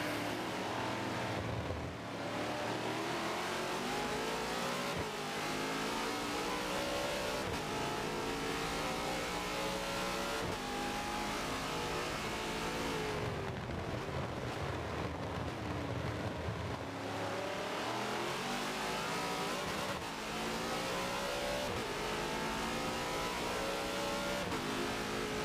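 Race cars roar around the Spa-Francorchamps circuit in a 24-hour racing video game event, engines continuously loud and close with rising and falling revs as cars accelerate, shift and pass, without talk.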